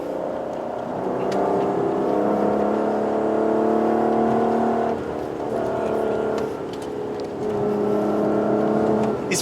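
A 2020 Aston Martin DBS Superleggera engine revs while driving, a loud, rich rising and falling drone that swells through the gears with brief dips between pulls.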